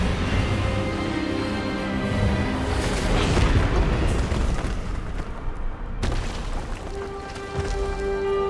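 Spell-casting effect in the video game Hogwarts Legacy, a loud booming blast with a rumbling, crackling tail that swells and then cuts sharply to a sustained tonal ring, no talk over it.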